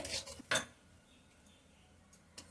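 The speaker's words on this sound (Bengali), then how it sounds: "দইটা দেওয়ার পরে কন্টিনিউ এভাবে নেড়ে যেতে হবে" Utensil scraping and stirring yogurt with spices in a pan over low heat, a few clinks of metal on the pan near the start and end with quiet gaps between.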